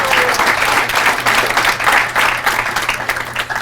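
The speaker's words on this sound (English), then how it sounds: "I think we owe Miss Caldwell another round of applause." Audience applause at a school honors ceremony, a full room clapping loudly and continuously with a slightly uneven, rolling texture as the round carries on.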